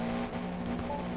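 A racing car's engine holds a steady high drone in second gear in Forza Motorsport, continuous and fairly quiet with a sustained tonal whine and no talking.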